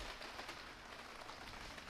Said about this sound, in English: We've definitely got the rain on this day, but thankfully the bit of tarpaulin is keeping me mostly dry